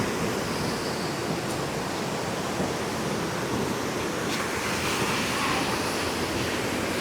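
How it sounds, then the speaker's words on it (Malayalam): Water falling forcefully through Thenmala dam, a constant broad rushing roar at moderate distance, steady and unbroken, with a faint hint of wind over it and no talk. "നല്ല ഫോഴ്സിലാ വെള്ളം വീഴുന്നത് കേട്ടോ."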